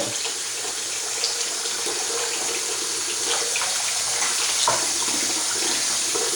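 Hot water pours steadily from a tap into a sink in a continuous hissing, splashing rush that holds at an even, fairly loud level throughout.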